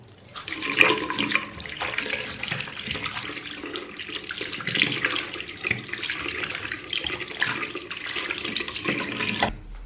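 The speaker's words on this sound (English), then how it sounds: "Make sure you wash your hand. Like use some soap." Tap water runs into a sink while hands are washed with soap, a continuous splashing stream with uneven surges as the hands move under the flow, no talking.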